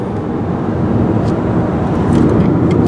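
A car passes on the road during a road trip, a loud, steady broadband whoosh of engine and tyre roar that swells slightly toward the end, with no talking.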